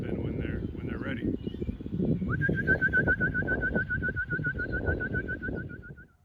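Racing pigeons at the loft call and coo amid other bird sounds, with a long run of repeated whistling notes over a busy, rumbling outdoor background and a person talking.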